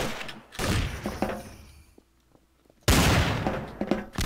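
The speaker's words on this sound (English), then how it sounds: "That was certainly an explosion." An explosion in a game: a loud burst opens, fades to near quiet, then a second sharp blast crashes in with rumbling debris.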